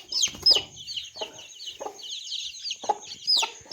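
Young chicks on a country chicken farm cluck and cheep in short, scattered bursts nearby, a few sharp calls rising above a soft, busy chatter of fowl.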